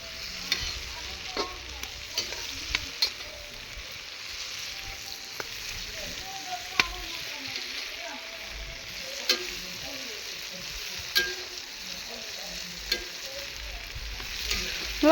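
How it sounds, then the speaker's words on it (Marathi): Chilies roasting and frying on a stove for a home-cooked dish with peanuts and garlic: a steady, close sizzle with frequent stirring clicks and taps, and faint voices in the background. "आमच्या आता मिरची भाजतात शिगडीवर"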